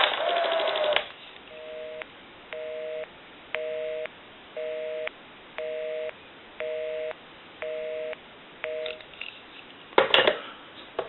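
A repaired Western Electric 302 desk rotary telephone calling a busy number: a quick dialing burst, then a busy signal with regular on-off tone pulses, ending in a clatter as the handset is handled.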